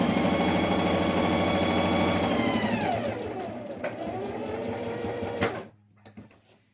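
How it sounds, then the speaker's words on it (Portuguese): An electric sewing machine stitches a seam on a handmade glasses case, a steady close whirring run that slows and winds down, then stops abruptly, leaving faint handling noise. "vamos passar a costurinha aqui, ó, do mesmo jeito do outro lado"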